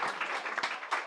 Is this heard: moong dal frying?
no